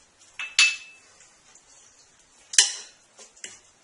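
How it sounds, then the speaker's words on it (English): A spoon or spatula mixes gazpacho in a mixing bowl, giving a few sharp clinks and scrapes against the bowl with quiet gaps between them, close and fairly soft. "and you want to mix everything."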